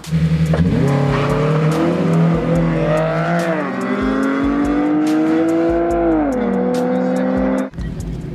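A 3.7-litre Ford Mustang street racing a G35 on a cold night, its engine roaring loud and close as it revs and climbs through the gears, then cutting off abruptly near the end.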